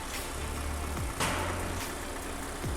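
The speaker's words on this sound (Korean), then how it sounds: "엔진 소리 일정하네요." A Hyundai LF Sonata LPI car's LPG engine idles at a steady, low rumble close by, with a brief faint whoosh partway through.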